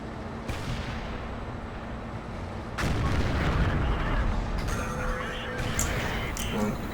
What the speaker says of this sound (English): I use Gnome Fathers, both for the motor and the gun sounds